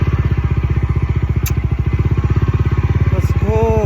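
A motorcycle engine runs loud and close, idling with an even, rapid thumping pulse, and a voice starts speaking over it near the end.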